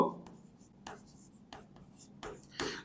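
Chalk or pen scratching out an entry on a board, short broadband strokes repeating in bursts, close and fairly quiet, with a teacher's voice talking faintly in the background.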